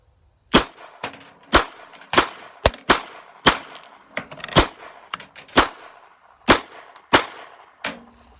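A Glock 27 subcompact pistol fires .40 caliber rounds in a string of about a dozen sharp, loud reports. The shots come at a steady, slightly uneven pace, each followed by a short ringing decay.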